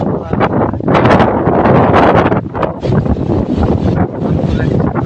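Strong gusting wind from a nor'wester (Kalbaishakhi) storm roars and buffets the microphone in loud waves under cloudy skies, with rustling in the background and no clear speech.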